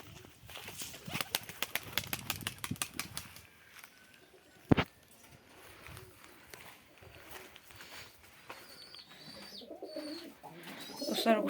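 Pigeons, including a black one kept in a loft, coo and flutter nearby, with a burst of rapid wing claps early, one sharp knock, then softer cooing and rustling.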